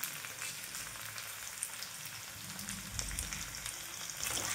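Onions fry in a pan until lightly browned, giving a steady, close sizzle with faint crackles and a low bubbling beneath, with no talking.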